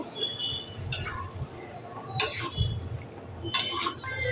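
A lid clanks down onto a pot of mutton curry with potatoes and peas: a few sharp metallic clatters spaced apart, close and fairly loud over a low simmering background.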